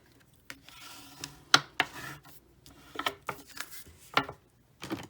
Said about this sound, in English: now we're going to fold and burnish our card base.